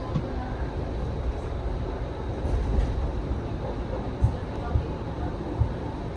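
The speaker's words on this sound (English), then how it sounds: "Train is in motion." An Eglinton Crosstown LRT train on Toronto's Line 5 rolling along, a steady low rumble inside the car with a few soft rhythmic clicks of wheels over rail joints.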